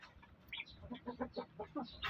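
A chicken clucks in a series of short, rhythmic bursts at a moderate distance, with soft background noise and no talking, near a breeding pair with eggs.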